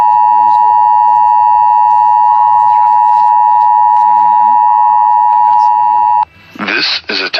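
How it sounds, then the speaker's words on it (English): A National Emergency Alert System test tone on a 2018 WSB-TV Atlanta broadcast sounds as a loud, steady electronic tone for about six seconds, then cuts off abruptly before a voice begins speaking. "This is a test of the National Emergency Alert System."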